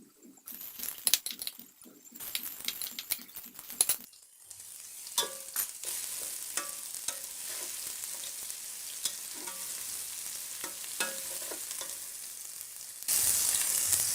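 Ginger garlic paste is added to golden brown onions in a pan for moti pulao. It sizzles loudly up close, with scraping stirring strokes and clinks throughout.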